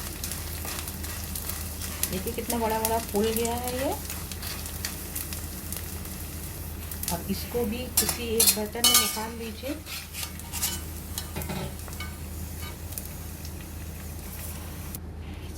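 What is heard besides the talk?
gond (edible gum) roasting and being stirred in a pan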